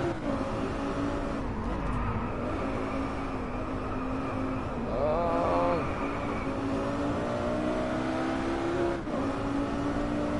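Four-wheel-drive mid-engine car in the DriveClub racing game, its engine droning and revving with rising and falling pitch through gear changes, steady and close with no talk.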